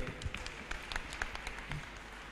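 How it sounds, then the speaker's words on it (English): A thin, scattered round of applause from a small audience at a professional-practice talk on a campus, with a few distinct, faint claps spaced irregularly rather than a full ovation. "Please give a round of applause to Mr. Tiril."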